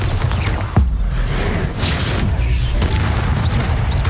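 A Bombarda spell goes off in Hogwarts Legacy with a heavy, booming explosion, set among dense, loud game sound with further crashes and rumbles following.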